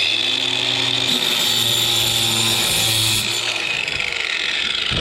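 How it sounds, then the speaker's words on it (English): A Craftsman 20-volt battery angle grinder cuts off protruding nails, giving a loud, steady high-pitched whine with grinding hiss that holds nearly unbroken, easing slightly toward the end. "just that easy cutting them off with the Craftsman 20-volt angle grinder"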